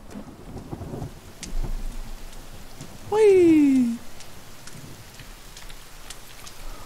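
Rain falls with rumbling thunder in the survival game The Forest, a steady hiss of drops under a brief swelling tone, while a voice calls out short exclamations.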